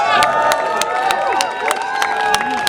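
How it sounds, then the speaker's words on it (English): A crowd at an Extinction Rebellion demonstration reacts with mixed applause and booing, a dense continuous roar of voices with sharp claps and whistles throughout. "That's sort of applause and boos at the same time."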